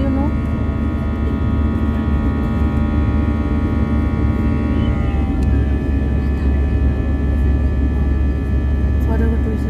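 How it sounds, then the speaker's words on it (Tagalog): Airplanes at Sharjah Airport, a loud, steady engine roar and hum with a slowly shifting tone, heard from inside with voices talking faintly underneath. "Yung mga aeroplano yun"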